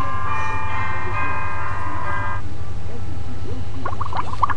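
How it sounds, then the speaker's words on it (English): Bell tower ringing as a sound effect, a sustained metallic bell tone with ringing overtones that fades out, followed by a few brief higher chiming strikes near the end. "Bell tower."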